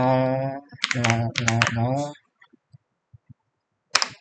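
A command is typed on a computer keyboard: a voice talks briefly, then a handful of sparse, isolated key clicks follow in quiet, ending with a sharper tap.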